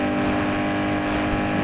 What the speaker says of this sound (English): as you can hear from the engine noise from my little Peugeot